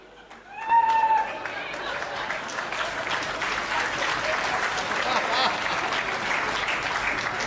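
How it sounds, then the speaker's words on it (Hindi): An audience at a Hindi comedy poetry show breaks into applause after a brief quieter moment, and dense crowd clapping then holds steady and loud to the end. "अगर वो पसंद आ जाए तो ताली बजा देना"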